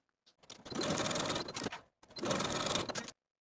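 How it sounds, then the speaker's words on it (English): A sewing machine stitches linen facing seams on a jacket in two close, steady runs separated by a short pause, the motor whirring loudly and evenly with no voices. "Sew these seams with a 3/8 inch seam allowance"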